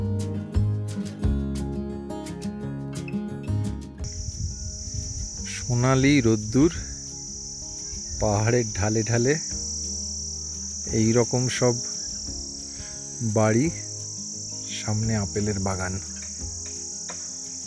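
Crickets chirp in a quiet Himachal mountain village in the afternoon, a steady high buzz that continues unbroken beneath someone talking in bursts.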